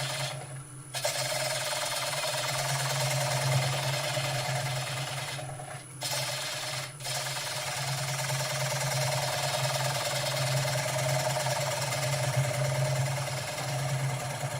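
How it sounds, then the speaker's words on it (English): A wood lathe spinning at 600 RPM while turning wood, a steady motor hum under a continuous scraping hiss, interrupted by a few brief pauses where the cut lifts off. "Turn the lathe on. Turn the speed up."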